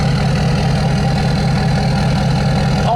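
A 2012 Ford F350 Super Duty dually Lariat with a Powerstroke diesel and DPF delete idles, its exhaust giving a loud, steady low rumble that holds evenly throughout.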